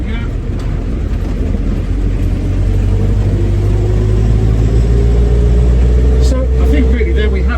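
A 1956 Land Rover Series 1 88in is being driven, its engine giving a steady, loud low drone with rumbling road noise throughout. Someone talks over the engine.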